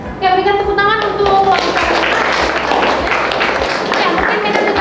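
Classroom applause from students during a teaching practice session, a few seconds of scattered, fairly close clapping that follows a short voiced tone, with children's voices mixed in.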